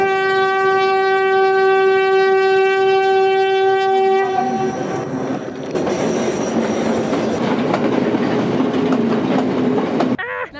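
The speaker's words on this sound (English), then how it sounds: "I was thinking as the train was going past" A train passes close by, opening with a loud, sustained horn blast for several seconds, then a steady roar of wagons rolling past with rail rumble and squeal, ending abruptly.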